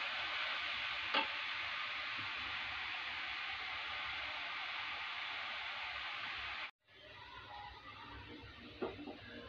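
Chopped bottle gourd fries in a pan with a steady, dense sizzle, loud and even, briefly cutting out before resuming more softly with a few light stirring clicks.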